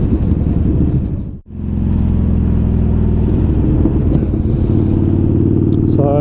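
Motorcycle rider rolling the throttle through the gears on a ride, a loud, close steady engine drone with a sharp dip at a gear change, then a sustained pull.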